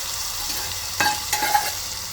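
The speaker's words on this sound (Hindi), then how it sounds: "बस अब ये तड़का हमारी कड़ी में डाल देंगे।" Hot spice tempering (tadka) with red chili powder is poured into a pot of kadhi, giving a faint, brief sizzle and a couple of soft clinks over a low background hiss.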